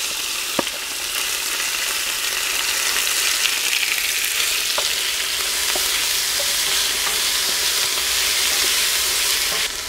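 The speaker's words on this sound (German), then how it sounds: "Im nächsten Schritt braten wir uns dann portionsweise das Fleisch an." Meat sears in a Dutch oven while making a Palatinate winemaker's stew, a loud, continuous sizzle and crackle with occasional sharp pops and a faint scrape of stirring.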